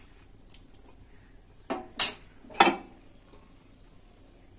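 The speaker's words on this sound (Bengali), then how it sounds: "এখন আমি ঢাকনাটা বন্ধ করে দিলাম।" A cooking pot lid clanking shut in a home kitchen, a few sharp metallic knocks and a clatter close by, with quiet pauses between.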